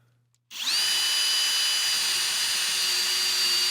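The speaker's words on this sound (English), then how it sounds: "Now I'm going to swap out and do my 1/4 of an inch bit" A power drill with a quarter-inch bit spins up sharply and bores into a wall for anchors, a loud, close, steady high whine that holds without pause after a quiet start.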